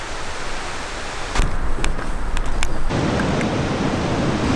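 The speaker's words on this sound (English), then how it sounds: "There's some big waves coming in." Big ocean waves breaking on the Oregon coast, a broad steady roar of surf that swells louder partway through, heard from nearby with wind noise and no talking.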